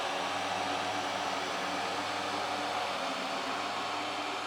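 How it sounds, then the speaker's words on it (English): Eureka E20 Plus self-emptying robot vacuum running with a steady, loud broadband whir and hum, constant throughout with no talk. "This is how loud the vacuum is."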